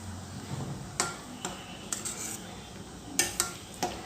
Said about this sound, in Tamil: இப்போ இதெல்லாமே நல்லா கலந்துட்டோம்.